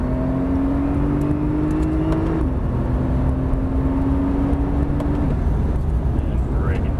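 Porsche 911 Turbo accelerating hard on a race track, engine and turbo whine rising in pitch, then dropping at a gear change and climbing again, heard from inside the car under continuous road and wind roar while people talk.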